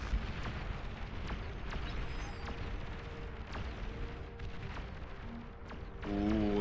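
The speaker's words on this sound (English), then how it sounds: "Preparing the EMP launchers." Video game EMP launchers fire in a dense barrage of repeated booming blasts and pops over a constant rumbling battle background. Game tones chime near the end.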